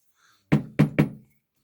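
A leather stamping tool strikes leather three times in quick succession, each a close, dull, muffled thud with a short decay, followed by silence.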